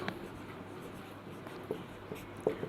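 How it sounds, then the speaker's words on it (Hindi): Hand writing an example on a surface during a Hindi grammar lesson, faint scratching strokes with a few sharper taps toward the end, close but soft under a low background hiss. "जैसे उदाहरण मैं लिख देती हूँ यहाँ पे"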